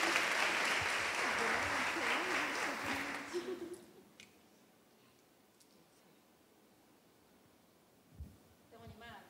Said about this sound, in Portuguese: Eu queria chamar aqui também e pedir os aplausos de vocês